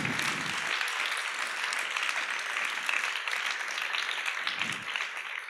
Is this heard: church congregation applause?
yes